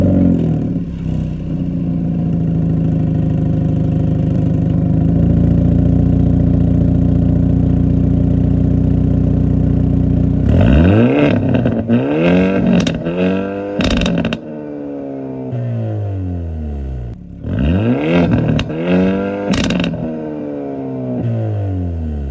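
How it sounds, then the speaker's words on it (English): A 2022 Hyundai Elantra N idles with a deep rumble, rising into a sustained hold. Then come repeated sharp revs that fall away, each trailed by exhaust crackles and pops, loud and close. "So let's take a look at how this exhaust sounds."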